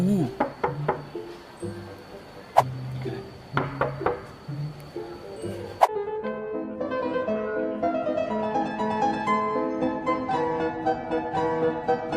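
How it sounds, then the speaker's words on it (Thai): Several sharp knocks rap on a wooden door in short bursts, followed by a brief musical jingle. "เสียงเคาะประตู"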